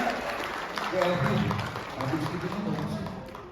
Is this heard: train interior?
no